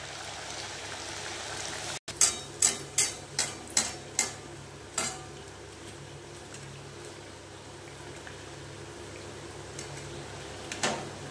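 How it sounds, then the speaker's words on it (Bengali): Bengali luchi frying in a pan of hot oil in a home kitchen, with a low steady sizzle throughout and a quick run of sharp metallic clinks from a utensil near the start, no talking. "তেল গরম করতে বসিয়ে দিয়েছি, গরম লুচি করার জন্যে। এই যে লুচি ছেড়ে দেওয়া হলো"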